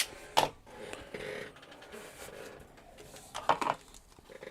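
Fabric strip being cut during quilting, two short crisp bursts of rotary cutting near the start and toward the end, close and moderately loud against quiet room noise.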